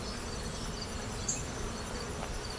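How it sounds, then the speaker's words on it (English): A faint, steady buzz of stirred-up honey bees hums under low background noise during queen marking, with a brief louder whine as a bee passes close. "The bees are a little more stirred up than usual"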